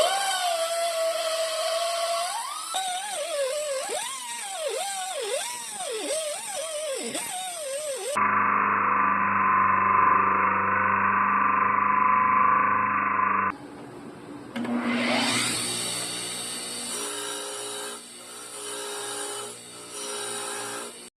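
A power tool fitted with a wire wheel cleans metal parts for a drag-racing-style bicycle build, giving a steady loud motor whine that drops out and then spins back up with a rising pitch.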